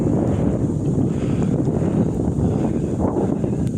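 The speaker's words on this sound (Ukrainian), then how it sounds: "7 градусів морозу, сніг, вітер, заметіль" Blizzard wind at minus seven degrees with heavy snow, roaring steadily and loudly against the microphone in a continuous, unbroken rush throughout.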